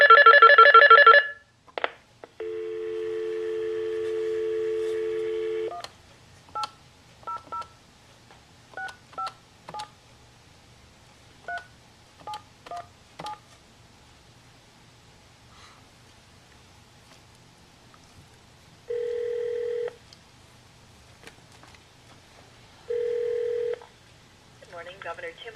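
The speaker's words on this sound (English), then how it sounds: "now what we're going to do is call the governor here and see what they got to say about this" A touch-tone telephone dials the Minnesota governor's office, Tim Pawlenty's: an opening burst of tones, a long steady ringback tone, scattered short keypad beeps, then two more ring tones spaced apart, clear and close.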